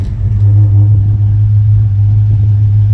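A 1964 Ford Falcon engine idling: a loud, steady low rumble with a strong hum, close up and continuous for the whole stretch, with no voices over it.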